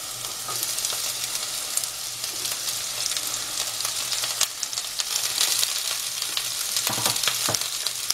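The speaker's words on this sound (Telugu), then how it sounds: "హై ఫ్లేమ్ లోనే మనం మిక్స్ చేయాలి" Cabbage and other vegetables for veg noodles stir-fry on a high flame, a continuous loud sizzle with scattered scraping stirs close by, no talking.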